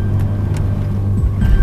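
A car engine drones and strains at low pitch while the vehicle sits stuck in sand, a steady close rumble that rises slightly in effort near the end.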